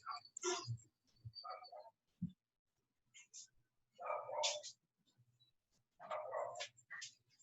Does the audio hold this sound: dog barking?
yes